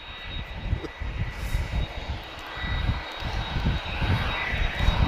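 A Ryanair jet's engines rumble and roar at Lisbon Airport, a continuous fairly distant drone with a faint high whine, swelling slightly toward the end.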